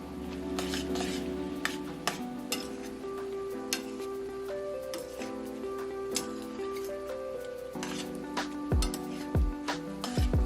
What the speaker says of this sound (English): I'm just making sure all the noodles are coated with that scampi sauce